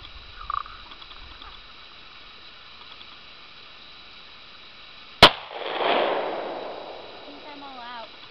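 A single sharp gunshot from a Hi-Point .40 pistol cracks at an outdoor shooting spot, loud and close, followed by a brief fading echo amid quiet background and faint voices.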